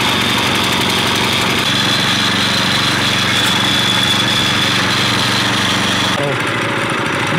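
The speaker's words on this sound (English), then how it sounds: "Two engine front wheel drive go-kart." A front-wheel-drive go-kart powered by two small engines runs steadily and loudly nearby, a continuous buzzing drone that dips briefly near the end.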